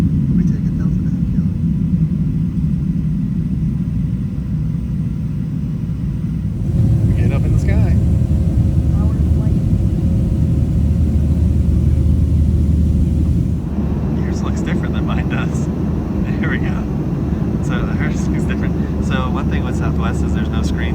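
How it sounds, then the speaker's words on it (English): A steady, loud low rumble of airplane engines fills the whole stretch, with a brief shift in tone partway through and faint voices in the background. "There goes a Delta plane."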